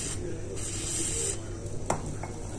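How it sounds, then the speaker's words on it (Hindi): WD-40 is sprayed onto a part near the oil level sight glass of a KTM Duke 200 motorcycle as a steady, close hiss lasting about a second, followed by a couple of light clicks. "थोड़ा सा WD-40 ले लें, थोड़ा सा स्प्रे करते हैं"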